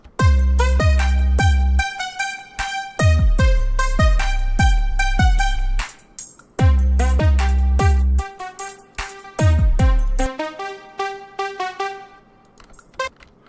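A Hypertrap melodic loop and drum sample play together in bursts of repeated punchy notes with heavy low bass hits, stopping and restarting several times, loud and close.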